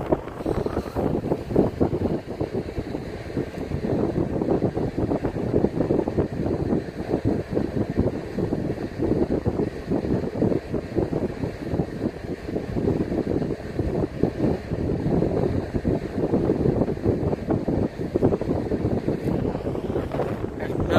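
Steady wind buffets the microphone on the side of a cruise ship at sea, a loud continuous rumbling roar throughout with a faint voice under it.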